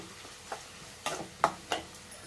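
Finely chopped onions cook in a pan with fried green chillies for dill-leaf upma, heard as a few soft spatula scrapes and taps over a faint background, with short pauses between strokes.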